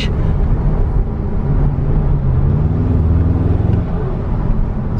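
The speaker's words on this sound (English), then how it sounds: "The intake with the little bit of whoosh." An Audi S3 8Y car engine gives a soft intake whoosh over a continuous loud, low, rumbling drone, with no voices.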